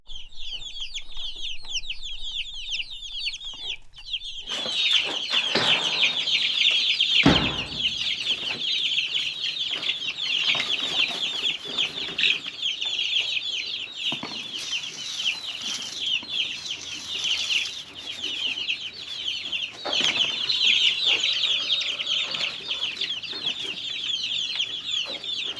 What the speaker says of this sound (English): These are Cornish cross broilers, and this is the worst batch of chicks I have ever experienced.